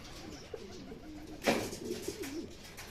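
A racing pigeon coos softly nearby, with a low throaty rolling call set against faint background noise and a brief louder rustle midway.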